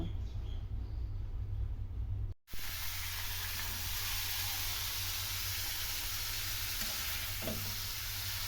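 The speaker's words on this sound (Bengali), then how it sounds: "এটা আমি আলু ভাজিটা শুরু করে দিয়েছি" Potatoes fry in a pan at home, a loud, steady broadband sizzle that cuts out briefly and then resumes stronger, with occasional stirring clinks and no talking.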